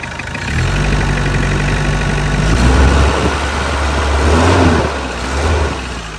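A 2-litre car engine idles steadily and close up, its low harmonic rumble swelling slightly midway as if lightly revved, with no talking over it.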